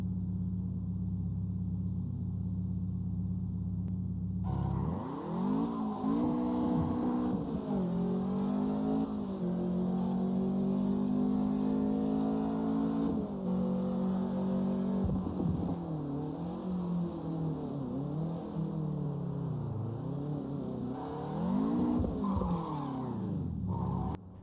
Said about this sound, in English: Here we have most common type of 5-speed manual car.